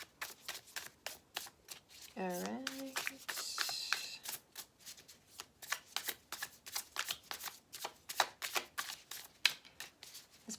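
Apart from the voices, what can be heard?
shuffling tarot cards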